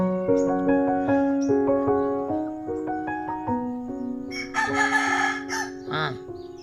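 A rooster crows loudly nearby, its long drawn-out call rising and falling, with other birds chirping faintly in the background.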